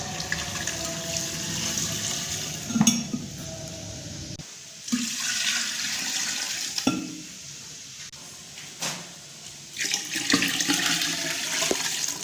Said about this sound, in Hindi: अब इसमें पानी जाएगा तकरीबन 6 लीटर